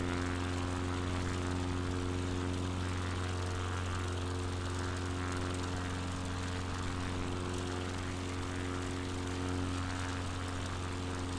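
A propeller plane's engine drones steadily in a flight simulator game during a bush flight over Patagonia, a continuous even hum with no change in pitch or loudness throughout.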